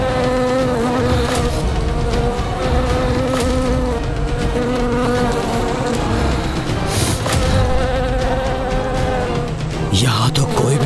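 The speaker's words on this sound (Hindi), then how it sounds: "ये भिनभिनाहट जैसे असंख्य कीट एक साथ ध्वनि उत्पन्न कर रहे हैं" Buzzing of countless insects rises as a dense, droning swarm, created as a sound effect for a television drama; it stays loud and unbroken, cutting off abruptly near the end.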